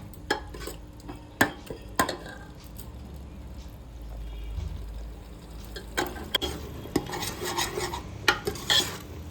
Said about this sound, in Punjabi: ਮਸਾਲੇ ਨੂੰ ਇਸੇ ਤਰ੍ਹਾਂ ਹਿਲਾਉਂਦੇ ਰਹਿਣਾ